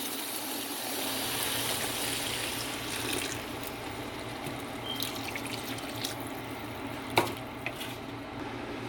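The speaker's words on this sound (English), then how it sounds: "you're going to add about 4 to 5 cups of water" Water is poured into a homemade meat sauce for lasagne, a steady splashing rush that fades partway through, followed by a few faint clinks and drips.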